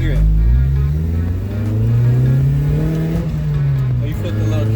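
A Mazda Miata fitted with a makeshift cold air intake accelerates from a stop up to about 40 mph, its engine note climbing steadily through the gears, loud and close from inside the cabin.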